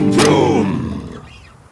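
A voice imitates a roar with a loud, rough growl that swells and fades within about a second and a half.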